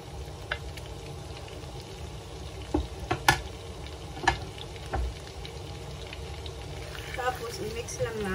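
Garlic fries in melted butter for seafood pasta, a soft continuous sizzle with a few light clicks and stirring taps near the pan.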